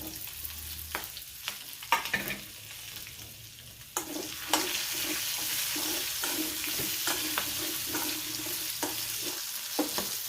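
Stuffed chillies dropped into a pan with hot oil and curry leaves burst into a sizzle that settles into a steady frying hiss, with spoon taps and stirring clacks close by and no voices.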